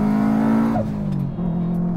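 A turbocharged car engine pulls hard with a tonal whine that rises and then drops away as the revs fall, followed by a quieter lower drone, close and loud.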